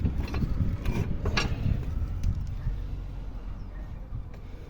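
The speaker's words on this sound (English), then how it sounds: "So now we're going to jack that up" Mechanical ratcheting and metal clunks from a jack raising the suspension of a VW Passat during a shock absorber and coil spring replacement, a few sharp clicks over low workshop rumble, close by.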